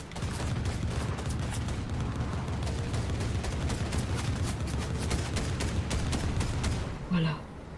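Machine gun fire in Fortnite rattles as a fast, even stream of shots, moderately loud and sustained for several seconds before stopping, followed by a brief voice.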